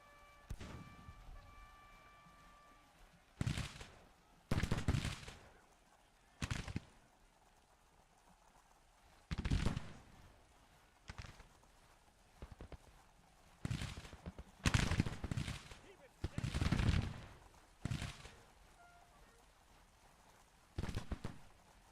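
Musket volleys from Grand Tactician: The Civil War crack out in irregular bursts, roughly a dozen sharp reports spaced a second or two apart over a low background hum, some landing in quick doubled clusters.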